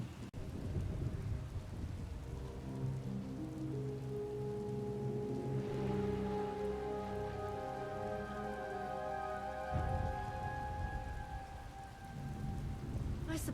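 Rain and thunder from a storm scene in an audio drama: steady heavy rainfall with low rolling thunder rumbles swelling and fading, layered under a tonal ambient drone, with no voices.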